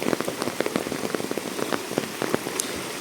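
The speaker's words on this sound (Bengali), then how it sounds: "কিরকম বৃষ্টি হচ্ছে।" Heavy rain pours down outside, a dense, steady patter of drops striking surfaces, close and continuous with no voices.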